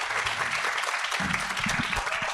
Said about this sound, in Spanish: Un aplauso para Jesús, por favor.